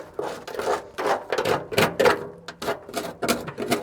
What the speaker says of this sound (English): If we get a stick of our own, shuffle around some dirt here.